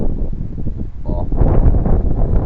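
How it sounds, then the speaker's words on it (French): Gusty wind buffets an outdoor microphone during a heatwave, producing low, uneven rumbling thumps that swell and ease, loud and close to the mic. "Je crois qu'il y a du vent, désolé. Parce que le vent il commence à monter."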